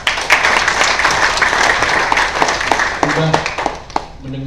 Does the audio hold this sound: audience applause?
yes